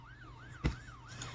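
A police car siren in the Roblox Brookhaven video game wails up and down steadily at moderate volume, with a single thump partway through.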